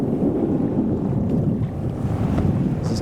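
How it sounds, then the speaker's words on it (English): Sailboat cruising under a new genoa and mainsail in barely any wind at almost 4 knots, a steady rush of water along the hull mixed with low wind buffeting on the microphone, with no voices. "Here we are, cruising along, doing about, almost 4 knots and barely any wind."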